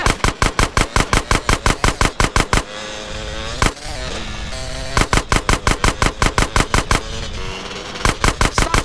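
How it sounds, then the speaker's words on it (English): Rapid bursts of automatic gunfire in GTA San Andreas, loud and close, with regular rhythmic shots broken by brief pauses filled with game ambience, then resuming. "Stop shooting that thing right next to my ear."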